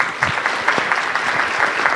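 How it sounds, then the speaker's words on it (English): An audience at a settlement crisis support workers' conference in Ontario claps steadily, a dense patter of many hands at close range, continuous throughout with no voices over it. "So you guys should give yourself a hand of applause."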